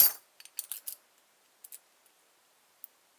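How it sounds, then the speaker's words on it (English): A key is worked off a key ring in small metallic clicks and scrapes, close and sparse, with a few tiny ticks after quiet gaps. "I'm going to take one of the keys off here just to make it a bit easier."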